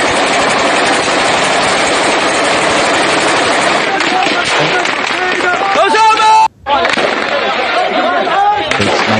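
Gunfire from a sniper engagement played back on a screen, a dense, continuous clatter of shots and noise with voices mixed in, briefly cutting out near the end.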